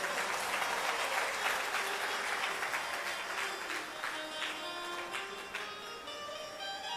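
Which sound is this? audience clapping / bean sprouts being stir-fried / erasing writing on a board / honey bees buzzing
audience clapping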